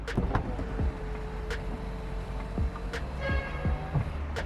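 The electric rear sunshade of a 2022 Hyundai Sonata 2.5 whirs as it opens and closes, a thin motor drone running between sharp clicks and ticks inside the quiet cabin.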